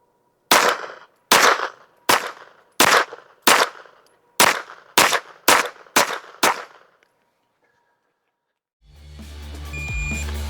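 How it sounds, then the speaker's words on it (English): A rifle fitted with a Gideon Optics Advocate sight fires ten loud, sharp shots at a steady pace of roughly one every two-thirds of a second, each with a short decay, followed by a quiet gap and then a steady electronic hum. "let's shoot one more 10-shot group"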